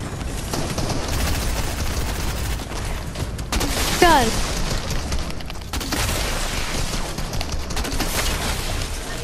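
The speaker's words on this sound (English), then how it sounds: "I just killed someone with a flare gun." Flare gun shots and the fires they set in the video game Fortnite, heard as dense crackling bursts and booming game effects with a brief whistling flare streak in the middle, all continuous and loud alongside game audio.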